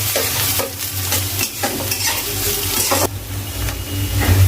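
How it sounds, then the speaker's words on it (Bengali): Chopped onion and garlic frying in a pan for hotel-style loitta shutki bhuna, a loud close sizzle with repeated stirring scrapes throughout and a low hum underneath. "এবারে পেঁয়াজ আর রসুনটাকে কিছুটা সময় ভেজে নিব"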